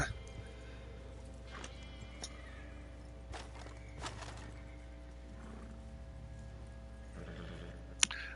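Horses with a wagon in a Rockstar Western video game: quiet hoof clops and occasional whinnies, faint and intermittent, with a sharp knock near the end and someone speaking softly at times.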